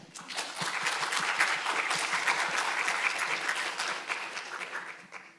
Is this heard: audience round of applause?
yes